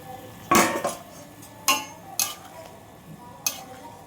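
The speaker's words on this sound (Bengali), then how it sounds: "বড়িটা দিয়ে দিচ্ছি।" Lentil dumplings (bori) drop into a pot of vegetable curry with a few sharp clatters of utensil against the pot, spaced out over four seconds and heard alone, with no talk.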